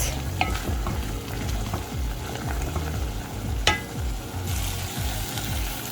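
Spices frying in a pan over medium heat, a steady close sizzle with occasional stirring scrapes and a single sharper clink partway through.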